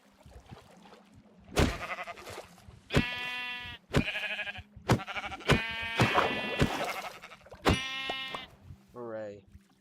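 Sheep bleating in the Minecraft video game, several short harmonic bleats spread across the stretch with occasional talk from a player mixed in, plus a brief game sound effect near the end.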